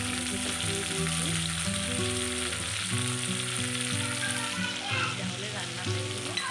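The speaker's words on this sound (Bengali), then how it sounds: "দেখো ট্যাংরা মাছগুলো ভাজছি" Tangra fish, coated in turmeric and salt, frying in a pan with a steady, loud sizzle throughout, plus faint stirring. Low tones run underneath.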